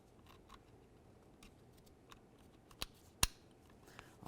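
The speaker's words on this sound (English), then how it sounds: "let's just go ahead and connect that in. Listen for a click." A window switch electrical connector on a Dodge Journey snaps into place with one sharp, close click, followed by a couple of softer clicks and faint handling noise in a quiet setting.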